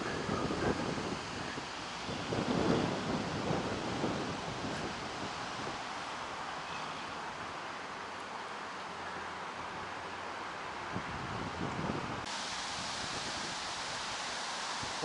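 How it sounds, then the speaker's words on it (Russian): Strong warm summer wind in Komsomolsk-on-Amur in the Russian Far East blows steadily and loudly across the microphone, rustling young garden trees with gusty surges and no voices. "Вот мне нравится, когда такой сильный ветер, прям теплый, но духоты нет"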